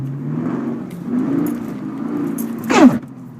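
A cold TR6060 manual gearbox in a Camaro SS grinds going into second gear, a short harsh rasp rising over the steady engine note near the end.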